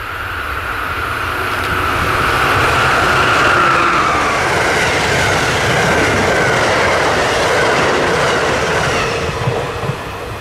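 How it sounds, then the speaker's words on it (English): Amtrak's Silver Star, led by an ACS-64 electric locomotive, rushes past at speed on a southbound run, a loud sustained roar of wheels and rail with a rising and falling whine, close and steady throughout. "The first train through would be Amtrak 91, the Silver Star, racing its way south toward Miami, Florida, with an ACS 64 on the pit."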